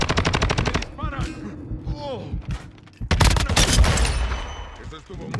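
Call of Duty: Modern Warfare II battle with bursts of rapid automatic gunfire. The shooting is loud at the start, fades under game sounds and voices, then comes back heavy and dense.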